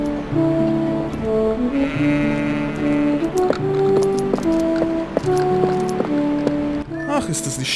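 Goats bleat in a small pasture in Zelda Twilight Princess HD, with several short wavering calls rising over gentle, steady game music that plays throughout.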